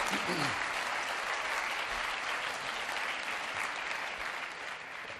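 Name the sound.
round of applause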